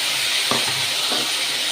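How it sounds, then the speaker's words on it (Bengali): Marinated meat sizzles and fries in hot oil in a kadai, a steady close hiss with a few brief stirring bumps and no talk. "কড়াইতে তেলটা ভালো করে গরম করে নিয়েছি, আর আগের থেকে করা মাংসটা ভিতরে দিয়ে দিলাম।"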